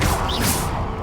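Confringo spell blast in the Hogwarts Legacy video game, one short loud smashing burst with a swooshing crack, close and dense.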